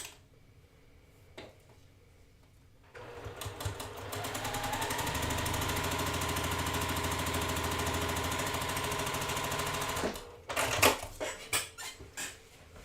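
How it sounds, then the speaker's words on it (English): A sewing machine stitches quilt fabric diagonally corner to corner, its motor starting after a quiet moment and running in a steady, close, fast mechanical whir for about seven seconds before stopping with a few clicks. "So again, sewing corner to corner."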